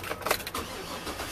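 A car's engine starts at a dealer car auction, a short burst of cranking and catching that is brief and moderately loud against the lot's background noise.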